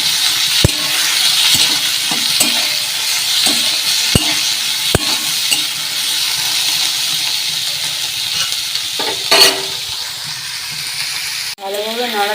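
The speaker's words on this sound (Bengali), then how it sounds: "লঙ্কা কুচি, টমেটো কুচি আর এই পেঁয়াজ কুচিগুলো। এবার এগুলো ভালো করে ভাজতে হবে।" Chopped chili, tomato, onion, garlic and ginger frying in a pan, a steady loud sizzle broken by sharp spoon clicks and scraping stirs, with a few brief clatters near the end.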